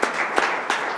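Audience at a Rochester Board of Education special meeting applauding: a brief, moderate patter of many hands with a few sharper claps standing out.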